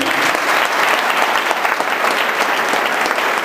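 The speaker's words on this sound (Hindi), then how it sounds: "एक बार जोरदार ताली" An audience in a college class gives loud, hearty applause, a dense and steady wash of many hands clapping at once that lasts throughout, with no voices on top.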